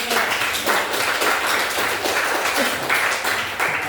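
A classroom of students claps for a classmate during a lesson, a moderate, fairly steady patter of many hands lasting a few seconds.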